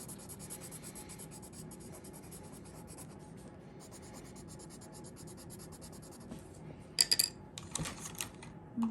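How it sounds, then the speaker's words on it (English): A colored pencil drawing over marker on paper gives a steady, quiet, scratchy rubbing of strokes throughout, close up, with a few sharper taps and bumps near the end. "This is a little harder to go over the marker with the colored pencil."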